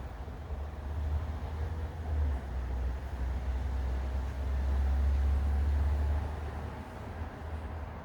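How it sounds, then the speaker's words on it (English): Cars passing outside in the evening, a low broad rumble that swells and fades, heard from indoors with no talk. "You hear some of the cars."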